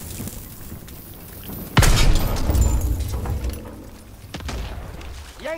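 A thermite charge set on a cannon in Call of Duty WW2 goes off with a sudden loud boom, followed by a rumbling roar and scattered battle sounds that slowly fade.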